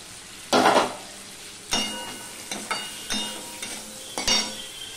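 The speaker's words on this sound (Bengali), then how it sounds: "এবার আমি ঢাকা দিয়ে দিয়ে আলুটা ভেজে নেব" Potatoes fry in a pan with onion and garlic, heard as a loud burst of sizzling followed by several shorter sizzles and stirring scrapes spaced a second or so apart, close by with no talking.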